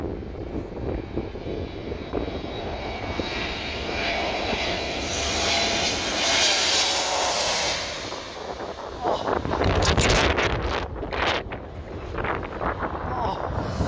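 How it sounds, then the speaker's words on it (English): An Airbus A321neo approaching low to land at Skiathos, Greece roars loudly overhead, its engine noise swelling and peaking as it passes, with heavy wind buffeting the microphone and voices in the background. "This is another Airbus A321neo approaching too low while landing at Skiathos,"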